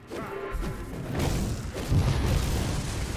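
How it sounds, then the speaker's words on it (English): Enemy-thrown bombs exploding in the action role-playing game Grim Dawn, a series of deep booms and crashing thuds rolling one into the next, loud and low with no talk. "He's throwing some kind of crazy bombs at me."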